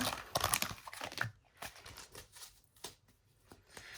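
Oracle cards are shuffled on a tabletop close by, a quick papery riffle followed by a few softer slides and taps, quiet and without speech.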